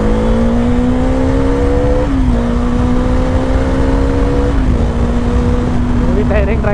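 A Bajaj Dominar 400 motorcycle at full throttle, recorded onboard, holds a loud steady engine drone that climbs through the gears, with pitch dips at the shifts and wind rush across the whole stretch.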